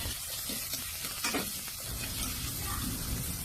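Chicken strips hitting a hot pan for chicken sotanghon, a loud, continuous broadband sizzle with a few stirring scrapes, close and steady from start to finish.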